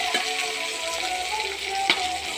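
Garlic and cumin crackle steadily in hot oil for a Gongura pachadi, a soft continuous sizzle with a few sharper pops, close and alone without talk.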